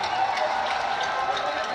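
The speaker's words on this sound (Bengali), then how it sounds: "জিউদরা ইউনিয়ন বিএনপির জন্য একটা জোরে সোরে করতালি।" Crowd applause at a political rally for a BNP union group in Bangladesh, a dense steady clatter of many hands clapping, loud and continuous throughout.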